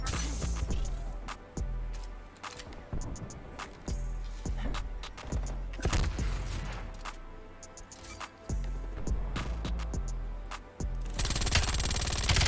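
A MAC-10 submachine gun firing in Black Ops Cold War, loud rapid automatic bursts broken by brief pauses across the stretch, with a harsher continuous burst at the close and no voices.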